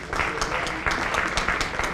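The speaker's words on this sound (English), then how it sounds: "Give them a round of applause again." An audience at a city MLK oratorical contest applauds the judges, a steady wash of clapping across the whole span with a few brief voices mixed in.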